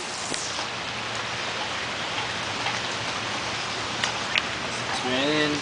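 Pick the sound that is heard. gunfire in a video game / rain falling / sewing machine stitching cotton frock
rain falling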